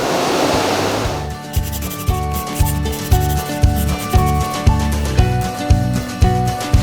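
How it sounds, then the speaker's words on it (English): A conveyor system carrying coated product to a packaging area gives a rhythmic industrial clatter, a steady pulsing thump roughly every half second over a machine hum, loud and close with no talking. "it's taken by this conveyor system to our packaging area"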